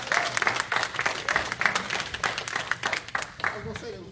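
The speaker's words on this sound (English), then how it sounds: "Give them a round of applause." Audience applause for four panelists at an Atlanta World Menstrual Day evening event, with steady clapping and some cheering throughout. A voice rises near the end.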